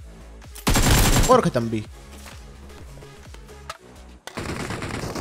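Video game gunfire in a camping fight inside apartments: a loud rapid automatic burst up close, followed by scattered quieter shots and clicks, then more firing, with someone talking over it.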